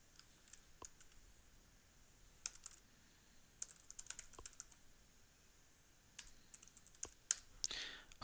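Keys clatter on a computer keyboard while an account registration form is filled in, with quiet, irregular bursts of clicks and taps, some sharper strokes standing out, and no talking.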